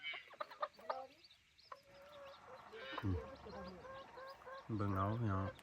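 Striped-feathered chickens at a rural Thai farm cluck and call in bursts, close and fairly loud, with a rougher honking fowl call near the end and quieter rural background between the calls.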